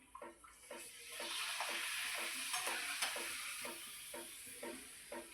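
Homemade papad frying in hot oil in a home kitchen, a steady loud sizzle with soft rhythmic scraping or stirring strokes repeating throughout, no voices.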